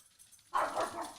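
Dogs barking in a short burst, close and fairly loud, after a quiet moment, with no talk over it.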